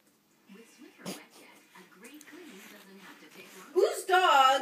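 A dog whimpers and whines in short breathy bursts, with a louder, higher cry near the end; a person talks intermittently around it.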